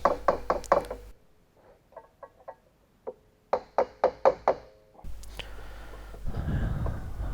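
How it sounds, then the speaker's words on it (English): Sharp knocking taps of a tool seating a big lock ring into its groove on a Valmet 860.3 crane pump being overhauled, in quick bursts of four or five close, loud hits separated by fainter taps and pauses. "it needed a few taps here and there to snap into the groove"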